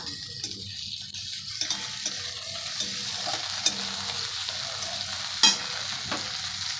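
Ginger paste frying with fried chopped onions in a pan for a soybean mince dish, a steady close sizzle broken by scraping stirs and a sharp clack near the end, with no voices.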